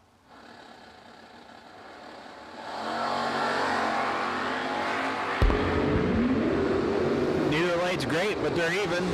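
Two drag racing cars launch at an ACE Triple 20K event: loud engine roar builds and holds, rising in pitch, with rapid revving sweeps toward the end, as an announcer talks over it.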